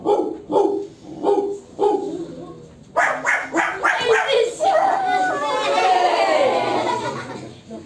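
A person imitates a big dog's barking with a series of loud, close woofs and yips, which turn into laughter and other voices at a St. Nicholas celebration.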